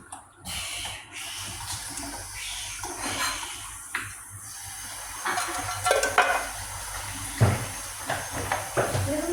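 Milk poured into boiling chai on a stove, with bubbling, splashing and a few clinks of a pot or utensil, moderately close and steady with no talk.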